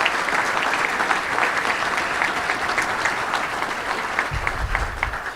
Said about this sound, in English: Let's give all of them a round of applause if you can.